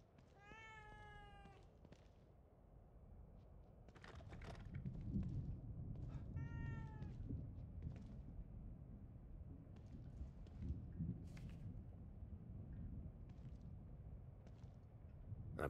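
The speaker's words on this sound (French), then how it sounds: "Un chat?" A cat in The Evil Within 2 gives two clear, drawn-out meows early on. A low rumbling, storm-like ambience then builds and continues beneath.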